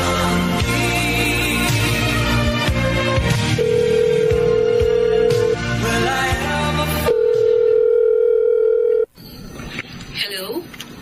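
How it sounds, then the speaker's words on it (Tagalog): A steady telephone dial tone sounds twice while a call is being placed, each stretch lasting a couple of seconds. It plays over loud dramatic background music, which then cuts to quieter sounds. "Mamaya po, subukan kong tawagan si Vanessa."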